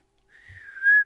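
A person gives a short signal whistle, a single clear rising tone that swells louder and ends abruptly, heard alone.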